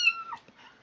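A cat lets out a short, close meow, fairly loud at first and then trailing off into faint room noise.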